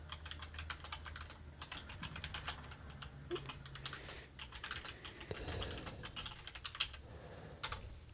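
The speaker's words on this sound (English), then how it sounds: "I gotta see where I'm typing at." Rapid, irregular clacking of keys on a computer keyboard, close and moderately quiet, with brief pauses between bursts.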